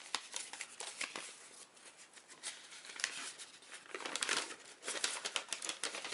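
A paper rule sheet from a card game starter deck being unfolded by hand, giving close, crisp crinkling and crackling with irregular bursts that swell toward the end, no voices present.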